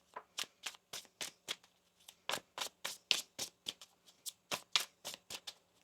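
Tarot cards are shuffled in quick, crisp riffles, a rapid flurry of soft papery flicks, close and quiet with no talking.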